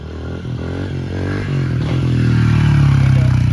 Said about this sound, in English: My video guy thinks he can hop my pit bike and come over here and try to attempt wheelies.